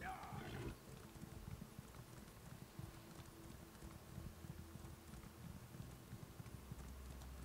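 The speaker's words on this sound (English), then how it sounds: "I'm on my stamina horse and catching up to you" A stamina horse galloping at full speed in the video game Elder Scrolls Online, hooves drumming in a quick steady clip-clop rhythm under a constant rushing wind-like noise, fairly faint throughout.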